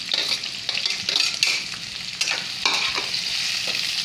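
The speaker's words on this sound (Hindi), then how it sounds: "यहाँ हम अपनी प्याज को सौते करेंगे इस तरह से।" Onion, ginger and garlic sauté in a hot pan for kadai paneer, with a steady close sizzle and repeated stirring scrapes across the four seconds and no talk.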